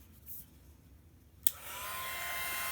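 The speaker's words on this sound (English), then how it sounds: "Then you get your heat gun," A heat gun switches on with a sharp click and then blows a steady, rising whoosh while melting embossing powder on a stamped card, preceded by a quiet moment.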